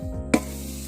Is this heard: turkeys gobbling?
no